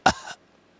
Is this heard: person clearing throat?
yes